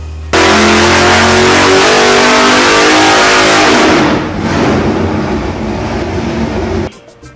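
A 572 Pump Gas Warrior big-block engine revs hard and loud up close, a steady aggressive roar that holds for several seconds, then drops to a rougher, lower rumble before cutting off.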